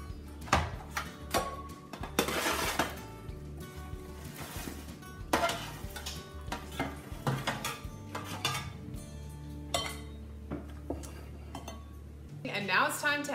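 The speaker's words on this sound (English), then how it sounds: "now we're going to transfer these to a large bowl" Roasted Brussels sprouts, caramelized on one side, scraped from a pan into a large bowl, giving repeated clinks and knocks of utensil against metal and dish with a brief rattle near the end, while a person talks over it.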